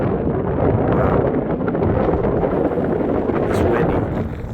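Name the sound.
wind on a mountain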